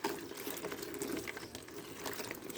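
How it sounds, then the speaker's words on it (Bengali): Jujube fruits (boroi) are washed in water, giving a steady, soft splashing and rushing of liquid throughout, with no talk. "ধুয়ে নিতে হবে, এইভাবে"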